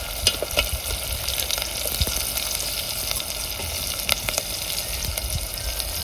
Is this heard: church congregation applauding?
no